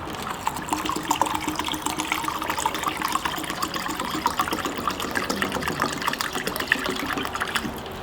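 Medium reducer poured and mixed into flake-laden car paint for a Scion FR-S respray, a steady liquid gush and splashing churn running continuously at close range with no talk.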